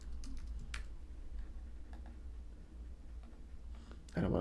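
Someone types on a computer keyboard, producing sparse, faint clicking keystrokes over a low background hum.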